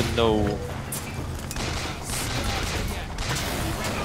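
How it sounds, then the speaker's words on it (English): Gunfire in the video game Bioshock Infinite, bursts of rapid shots and booms crackling close, dense and continuous over a brief stretch, with a person talking amid the firing. "There's still someone shooting at me."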